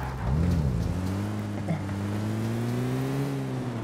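A vehicle engine rumbles close by as it pulls away, rising in pitch and then settling into a steady drone, with rain-like hiss and light background noise around it.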